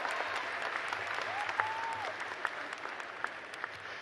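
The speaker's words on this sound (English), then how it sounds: "Let's give that a round of applause." An audience at a college commencement claps in a sustained, moderately distant round of applause, a steady patter of many hands filling the space.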